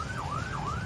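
A police car siren wails steadily in rising and falling sweeps, close and continuous over low road noise.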